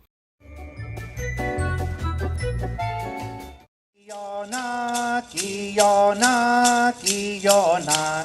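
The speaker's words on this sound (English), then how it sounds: "What you're hearing right now is a traditional song of the Tongva tribe" A traditional Tongva tribal song: rhythmic rattling percussion jangles at first, then voices chant together in rising and falling phrases over the beat.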